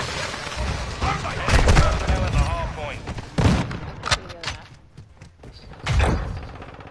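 Gunfire and clattering impacts in a Modern Warfare 2 multiplayer match, sharp repeated bursts scattered through the action, with a player talking over the game audio.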